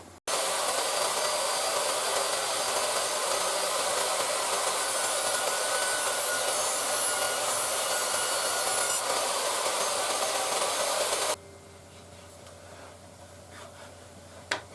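A DeWalt DW745 table saw runs loud and steady for about eleven seconds while cutting wood for a crosscut sled, then cuts off abruptly, leaving a quiet room with a faint click near the end.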